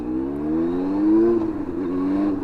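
Yamaha R1 sport bike engine under way on a ride, a steady droning engine tone rising slightly in pitch then easing, heard close and continuous.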